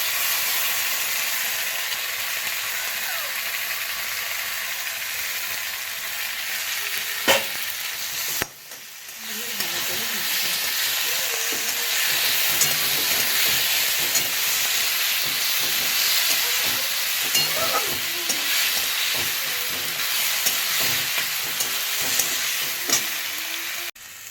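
Ginger garlic paste frying in a hot pan with salt, a steady loud sizzle throughout with stirring scrapes, briefly dropping out around the middle before resuming.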